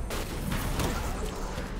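Enemy gunfire in the Destiny 2 video game, a dense, continuous barrage of rapid shots and blasts filling the whole stretch at steady loudness with no clear gaps.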